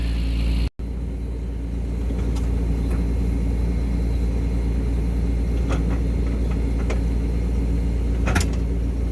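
The small pony motor of an old D-8 bulldozer drones steadily on a cold morning, a continuous low rumble with a brief dropout near the start and a few faint knocks above it.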